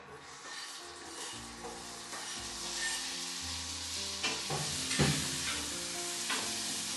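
Cherry tomatoes fry in a pan for a creamy Tuscan salmon dish. Steady close sizzling with scattered spatters and occasional stirring clatter, and no speech.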